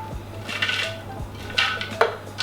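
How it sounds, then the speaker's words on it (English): White chocolate tipped into a Thermomix bowl of near-boiling cream, giving a few light clattering knocks and scrapes against the bowl, close and fairly quiet, with no talking. "we're going to add in the white chocolate"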